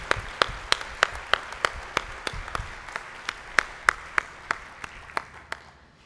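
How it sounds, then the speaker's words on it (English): Applause from a small audience at an education administrators' luncheon honoring pioneering educators; a handful of distinct, sharp claps stand out at a steady beat over a soft wash of background clapping, continuing evenly to the end. "Why don't we give just one more overall applause for these wonderful pioneers"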